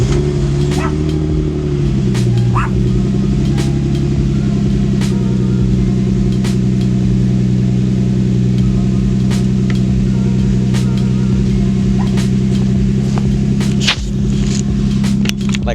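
A Lexus IS300 with an installed Y pipe idling, a loud, steady low engine drone that dips briefly near the start, with faint clicks and pops scattered over the running note.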